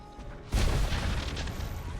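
A tower blown up in Star Wars: The Old Republic: a sudden deep boom after half a second of quieter hum, then a rumbling, crackling tail that slowly fades.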